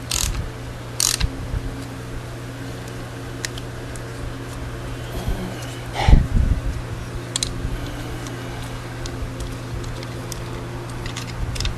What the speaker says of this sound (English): to hold your ratchet in like so. Press it in so you're not going to skip out and strip the teeth of that Torx head bolt.